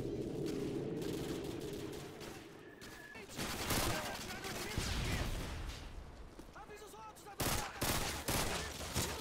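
Gunfire in the video game Modern Warfare 2: loud bursts of shots break out over a low rumbling background, with heavier, denser volleys near the middle and again toward the end.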